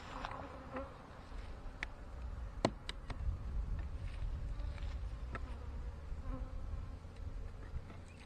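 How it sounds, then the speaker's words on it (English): Honeybees swarm and buzz steadily around a beekeeper checking a hive for queens, a dense continuous drone with individual bees zipping close by now and then, no talking. "Now these bees are trying to attack me."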